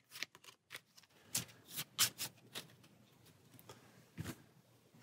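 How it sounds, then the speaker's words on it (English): Playing cards from the Cthulhu: Death May Die board game being shuffled back into a deck, a run of crisp riffling bursts with short pauses, close and fairly quiet, no talking. "Shuffle these back into the Mythos deck."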